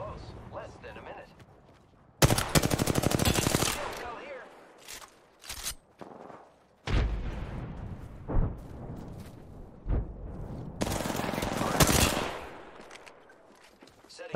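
Apex Legends firefight: loud bursts of automatic gunfire erupt in two main volleys with scattered single shots and impacts between them, while voices talk over the action.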